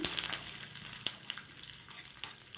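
Tempering for a ridge gourd and peanut chutney frying in a pan, a soft, continuous crackle and sizzle with scattered small pops and a faint stirring scrape, fairly quiet and without talk.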